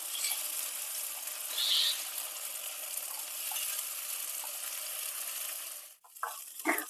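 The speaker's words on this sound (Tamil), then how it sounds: "இது நல்லா கலர் மாறி எண்ணெய்லாம் பிரிஞ்சு வர்ற வரைக்கும் இந்த நெய்யில் வேக வச்சுக்கலாம்" Prawn ghee roast masala frying in ghee, a dense, continuous sizzle heard close up, with a brief break and a few stirring clatters near the end and no voices.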